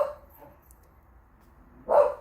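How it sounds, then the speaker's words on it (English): A single dog barks in a short burst near the end, loud and close, after a quiet stretch with only faint room noise. "Wait until my dog stops barking."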